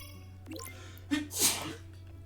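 A single sharp sneeze lands close to the mic after a short intake of breath, over a steady low hum.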